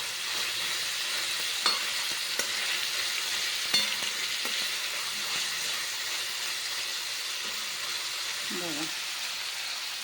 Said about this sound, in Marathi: बघा आता पाच मिनटं असेच ठेवणार आहे हिला तेलात मात्र आपल्याला भाजून घ्यायची आहे